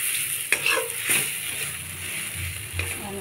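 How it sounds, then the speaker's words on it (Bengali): Spice masala with ground cumin and coriander fries in a pan for a pomfret fish curry, a soft sizzle under scraping stirring strokes and a few light knocks against the pan. "আর একটু কষিয়ে নেব মশলাটা।"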